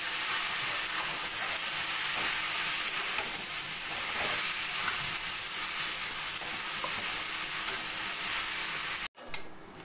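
Boiled hakka noodles and vegetables are stir-fried in a pan, giving a loud, continuous sizzle with faint stirring scrapes that cuts off abruptly near the end.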